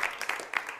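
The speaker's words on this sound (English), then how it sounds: "Let's get a round of applause here." A short burst of audience applause, scattered claps rising and falling over less than a second.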